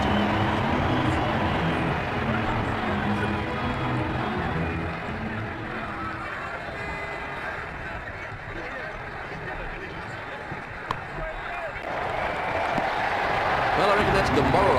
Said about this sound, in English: The crowd enjoyed that shot.